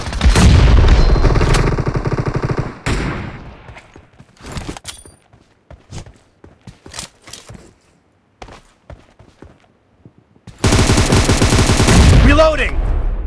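M762 assault rifle bursts in BGMI: a long loud volley of automatic fire, then scattered single shots and footsteps at lower level, before another sustained heavy burst near the end with a faint voice under it.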